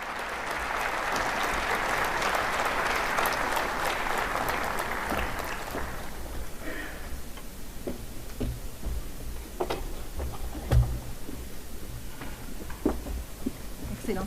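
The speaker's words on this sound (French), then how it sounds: "Sous vos applaudissements, Mesdames et Messieurs, Monsieur le Président Évariste Ndayishimiye" Sustained audience applause in a hall greeting Évariste Ndayishimiye as the incoming African Union president, loud and dense for about six seconds before thinning into scattered claps and room noise.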